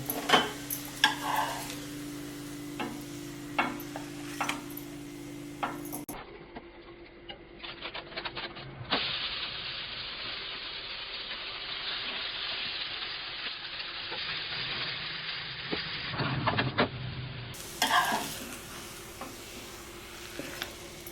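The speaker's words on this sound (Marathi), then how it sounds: "याला पलटी करून घेऊ थालीपीठ छान भाजलंय" Thalipeeth, a multigrain flatbread, fries on a pan with a steady, soft hiss and sizzle that runs through the middle stretch, framed by clattering kitchen handling at the start and end.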